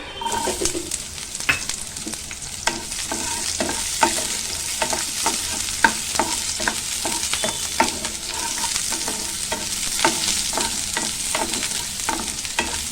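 Half a cup of onion frying in a little oil in a pan for masala aloo curry, a steady close sizzle with a regular run of spatula scrapes and taps throughout, no voices.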